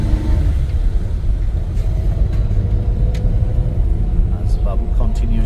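A Yamaha motorbike being ridden through a village in Pakistan gives a loud, steady low engine rumble close by, with road and wind noise and a voice talking over it.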